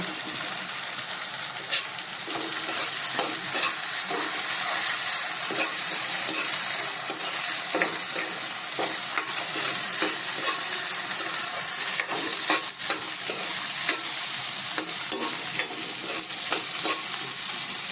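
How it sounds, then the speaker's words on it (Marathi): Green peas sautéing and being stirred in a pan for tomato upma, a steady close sizzle with frequent scraping stir strokes throughout, no talking. "मटारचा कच्चेपणा मोडेपर्यंत परतायचे आहेत."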